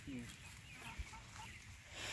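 Rhode Island Red and Rhode Island White cross chickens in a mobile chicken coop cluck softly, with low murmured clucks and a brief soft thump, faint and at a short distance, and voices quietly talking nearby.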